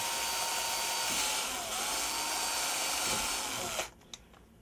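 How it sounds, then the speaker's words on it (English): A power drill whines steadily and loudly for nearly four seconds while drilling through metal, then cuts off abruptly, leaving a brief clatter and near silence. "I'm drilling it through one side, drilling it through the other, as straight as I can"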